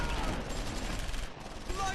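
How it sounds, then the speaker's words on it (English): Machine gun fire in the wartime strategy game Close Combat IV, a steady rattling fusillade of rapid shots blending into a dense, loud wall of sound with a brief dip midway. "Oh yeah, gunning them down."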